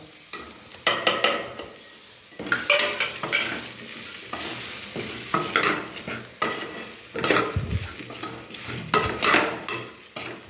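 Grated coconut is roasted in a pan for mushroom kulambu: a spoon repeatedly scrapes and stirs in uneven bursts over a soft background sizzle, close and fairly loud, with no voices.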